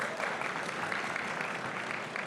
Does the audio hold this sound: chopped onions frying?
no